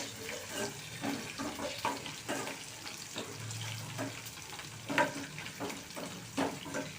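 Okra frying in a pan over low heat, a soft, steady sizzle with faint scraping stirs running throughout, with no talk.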